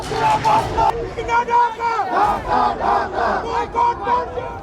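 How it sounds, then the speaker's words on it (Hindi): Angry crowd in Dhaka, Bangladesh chanting slogans in loud rhythmic bursts of many voices, a dense roar of shouting that rises and falls throughout. "और नारेबाजी करती ये उग्र भीड़।"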